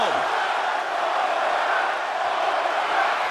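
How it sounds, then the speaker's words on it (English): Deafening crowd roar at a wrestling ambulance match, sustained loud cheering and shouting with scattered whoops filling the whole stretch without a break. "The sound of this crowd is deafening, and he's asking for more."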